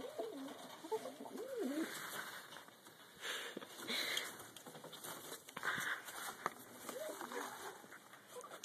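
Pigeons coo in a cage on a small farm with poultry nearby, giving low, throaty, repeated calls near the start and again near the end over a steady background hiss.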